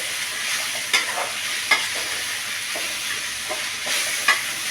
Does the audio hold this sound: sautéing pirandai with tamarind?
yes